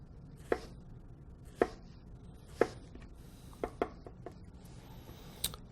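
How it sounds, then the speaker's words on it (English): A knife cuts stacked vegetables into julienne strips on a cutting board, making sharp, evenly spaced chops of about one per second that are close and clear, with no talking. "I'm going to cut them into our regular Julienne first."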